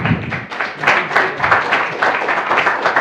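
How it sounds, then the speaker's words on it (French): An audience at a book presentation breaks into applause, a full, close crowd clapping with uneven bursts of hands that rise and fall for a few seconds. "Et donc, vive Pascal Fesneau, on peut l'applaudir, je crois."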